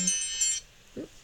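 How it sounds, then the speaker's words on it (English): A phone or clock alarm sounds in two short bursts of shrill, high beeping, fairly loud and close in an otherwise quiet room, followed by a brief low sound. "sorry, that's my alarm."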